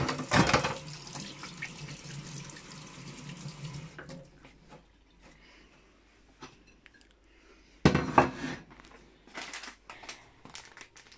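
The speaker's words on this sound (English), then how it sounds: "First of all, what you do is wash your hand for hygiene." Hands being washed under a running tap as hygiene before making toffee apples; a steady splashing stream for several seconds, then quieter drips and handling, and a second brief burst of running water.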